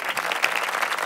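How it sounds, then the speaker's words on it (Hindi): Studio audience claps for a team on a Ramzan quiz show, a brief dense burst of applause at steady level. "बहुत सारी तालियां टीम सी के लिए"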